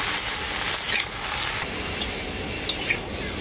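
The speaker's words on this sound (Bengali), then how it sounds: "আলু আর লাউ শাকটাকে তেলে খুব ভালো করে কষিয়ে নেব।" Potato and bottle gourd greens sautéing in oil with salt, a steady bright sizzle punctuated by several light spatula clinks and scrapes against the pan, close and without speech.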